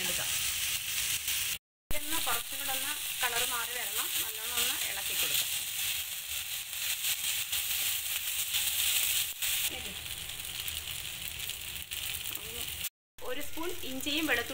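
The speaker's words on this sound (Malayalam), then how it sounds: "ഇനി നല്ലോണം ഇളക്കി നമുക്കൊന്ന് കളറൊക്കെ മാറ്റി എടുക്കാം" Onions sizzle steadily in a pan while being stirred for a Kerala-style mutton curry, a continuous frying hiss with occasional scrapes, and a voice talks over much of it.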